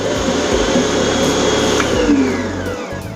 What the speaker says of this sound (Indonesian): udah sekitar 10 menit saya mix dengan mixer saya